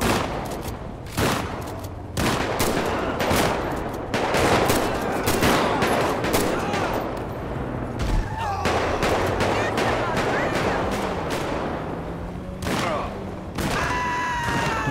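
Rapid bursts of gunfire from a GTA 5 shootout in Los Santos, loud repeated shots fired close by, with speech running between the volleys.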